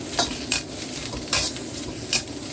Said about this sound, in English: This pressing motion helps the peppers contact the hottest part of the wok.